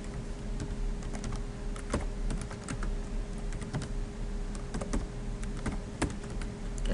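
Someone types a password on a computer keyboard, producing a quick run of crisp, irregular key clicks with short pauses between bursts, close and fairly clear over a faint background hum.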